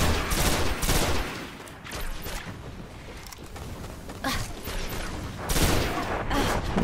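Gunfire in the video game Destiny: dense bursts of rapid shots in loud waves, with a lull midway before heavy volleys resume, sounding close and continuous.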